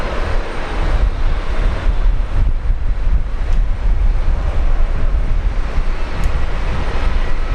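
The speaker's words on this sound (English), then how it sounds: "Rolling now. Off to Proserpine, flight 1113, Virgin Australia." A Virgin Australia airliner, flight 1113 bound for Proserpine, rolls for takeoff at Brisbane Airport, its engines giving a steady, loud broadband roar with wind buffeting throughout.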